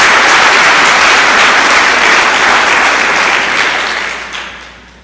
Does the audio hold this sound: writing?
no